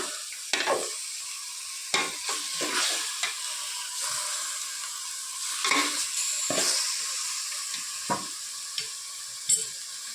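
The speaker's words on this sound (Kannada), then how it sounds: "ಅದು ಫ್ರೈ ಆಗಕತ್ತೈತಿ" Chicken sizzles in hot oil for a Raichur-style gadagi chicken sambar, a steady frying hiss broken by repeated scraping stirs of a spoon against the pot, close and loud with no talk.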